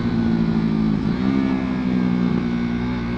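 A KTM Duke 390 motorcycle fitted with a Remus exhaust revs steadily up close, its mid-pitched engine drone holding loud and even with two brief dips in the revs.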